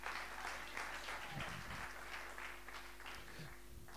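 A church congregation applauding, a steady wash of many hands clapping at moderate distance, sustained and even throughout with a faint background hum.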